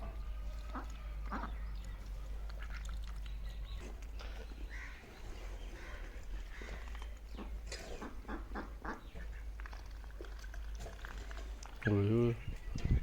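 Pet ducks quack near a person who is talking, with scattered short calls and a louder, clearer quacking burst toward the end, mixed with handling noises.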